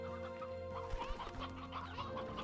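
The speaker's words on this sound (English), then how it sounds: "Mr. Chicken. I'm sorry, Mrs. Chicken" A hen in the video game Slime Rancher clucks in a run of short, soft, closely spaced calls over a faint steady background tone, quiet and near.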